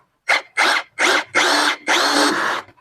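KEPU brushless 16V cordless drill driving a bolt at a torque setting of 12, five close, loud whirring bursts that start and stop in quick succession, each a little longer, with no talking.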